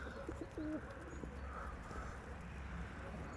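Pigeons cooing in a pigeon loft, a few soft throaty coos early on over a faint background hum, fairly quiet and close, with no clear talk.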